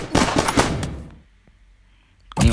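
A short burst of rapid gunfire from the mobile shooter Battlelands, loud and close for about a second, then fading into quiet before another sharp crack.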